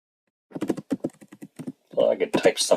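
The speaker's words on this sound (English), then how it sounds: "I can start typing since it's an empty file." Typing on a computer keyboard in a Linux terminal: close, crisp key clicks, first a quick run of separate taps, then after a short pause a denser, louder burst of keystrokes.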